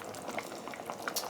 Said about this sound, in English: I have my water boiling for my mashed potatoes